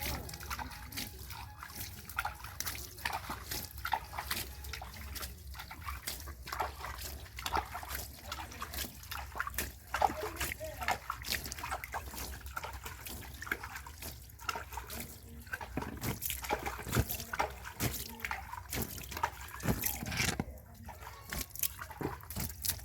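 Water splashes and trickles steadily while a screen-printing screen is rinsed clean, a continuous, close, hissing wash with small bursts, under occasional voices.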